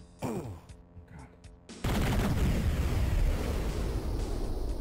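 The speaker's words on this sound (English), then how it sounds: "Explosions in Duke are so satisfying" Duke Nukem 3D gameplay in a user map: a few sharp in-game blasts give way to a huge, sustained explosion that booms and rumbles loudly for several seconds.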